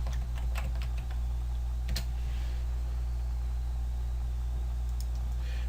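Computer keys are tapped in a short run of clicks early on, then stop, leaving a steady low hum in the room.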